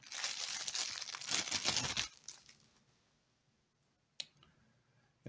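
Cellophane bag around a Baofeng BF-F8+ handheld radio crinkles loudly and close for about two seconds during an unboxing, then fades to near quiet with a couple of sharp clicks.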